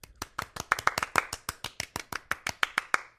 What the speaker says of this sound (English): How many claps was that?